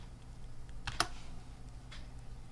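A few faint, close keystrokes are tapped on a computer keyboard while ESP32 board settings are entered, set against a low steady room hum.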